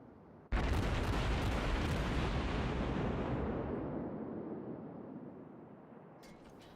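A naval gun salvo from the cruiser St Louis in a warship game booms out with a single heavy blast that rolls on and slowly fades over several seconds.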